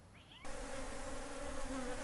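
Honeybees buzz in a dense, continuous drone at a queen bee selection apiary at an agricultural experimental station, a steady close hum that swells after a quieter start.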